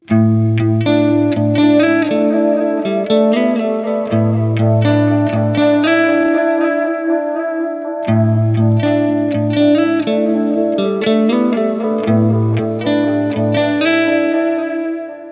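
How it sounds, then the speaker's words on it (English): An electric guitar plays a melodic riff soaked in warbly, slightly degraded worn-tape echo, each repeat smearing and trailing behind the notes, loud and alone. "It feels like each repeat is replayed by a slightly older, more worn out tape."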